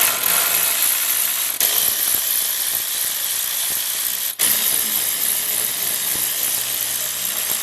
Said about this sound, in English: We're using a 3/8 socket, and you will take one by one all these out.